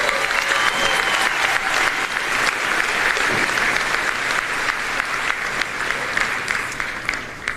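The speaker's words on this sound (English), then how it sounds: "How about a round of applause for them?" A large crowd at a John Jay graduation ceremony applauds the symphonic band, a loud, dense, sustained roar of clapping that holds steady and eases slightly at the end.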